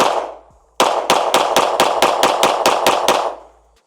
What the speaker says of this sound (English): I'm just mag dumping as fast as I can at this point